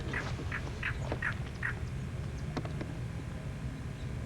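Birds calling outdoors, a quick run of five duck-like quacks near the start followed by a few sharper calls later, faint over a low background rumble.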